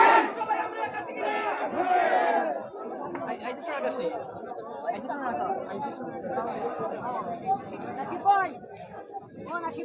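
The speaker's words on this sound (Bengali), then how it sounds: "বিভিন্ন জাতীয় বিশ্ববিদ্যালয়ের নেতাকর্মীরা কিন্তু স্লোগান সহকারে এখানে আসছেন" Students gather in a loud crowd chanting slogans in unison, their voices rising and falling in steady, rhythmic bursts that carry on without a break.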